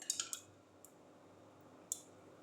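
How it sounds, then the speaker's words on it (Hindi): Ice cubes drop into a glass of mint lemonade, a nimbu pudina sharbat. Three quick close clinks come first, followed by a faint tap and then one last sharp clink against a quiet background. "और इसी के साथ ऐड करेंगे आइस क्यूब।"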